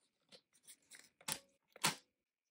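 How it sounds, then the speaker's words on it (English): Plastic top tab pulled off a Pixling toy package, a quiet series of crinkly tearing crunches building to two sharper, louder rips near the end. "So let me pull that top tab off and we will cut the Power Elixir open."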